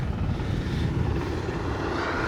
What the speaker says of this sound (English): Look at Chopper coming in hot.